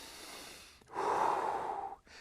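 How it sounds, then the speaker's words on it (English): A single slow, deep breath drawn and released in a quiet room, a soft airy rush that swells for about a second before fading, heard alone and close. "So diaphragmatic breathe."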